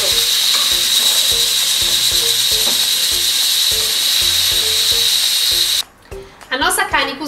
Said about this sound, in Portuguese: Vamos deixar refogar por mais ou menos 5 minutos.